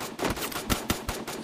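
Sniper rifle fire in a mobile shooter game comes as a rapid cluster of sharp, close shots over one and a half seconds.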